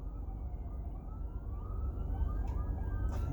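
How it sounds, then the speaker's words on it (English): Police car sirens wail faintly in the distance over a steady low street rumble, the rising tone barely emerging without any speech. "you hear sirens, a bunch of cop cars"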